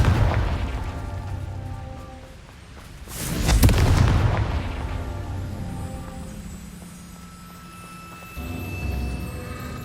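Confringo blasting spell explosion in Hogwarts Legacy: a deep booming burst swells around the middle, rumbling and decaying over a couple of seconds amid ongoing game ambience and a later lower thud.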